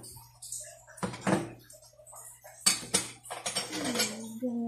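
Ceramic plates and dishes being set down and arranged during a home cleaning session, with a few distinct clattering clinks and scrapes separated by quiet gaps, close by.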